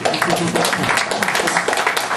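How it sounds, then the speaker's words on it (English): Audience applause at an open mic poetry reading, a steady dense wash of many hands clapping throughout, fairly loud and close with no break. "It's that obligation applause that we really look for"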